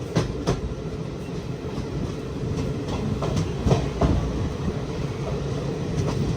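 Express train rolls slowly into Arakkonam junction, with a steady low rumble and irregular wheel clicks over the rails, heard from on board without talk.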